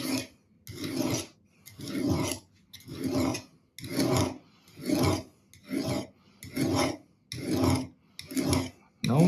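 A steel knife blade is drawn repeatedly across an old whetstone, giving about ten rhythmic rasping strokes with faint metallic ringing, close and clear with no talking.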